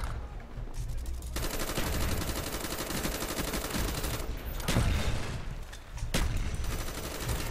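Gunfire in Call of Duty: Black Ops, loud sustained automatic bursts crackling almost continuously with brief gaps, dense and close.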